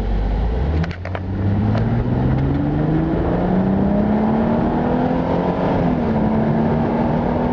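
A Ford Mustang accelerates from idle on the road, its engine note climbing smoothly and steadily in pitch as a loud, continuous, linear drone heard from inside the car.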